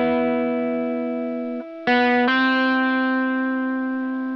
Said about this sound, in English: So I have a nice low gain type tone dialed in from STL Tonehub.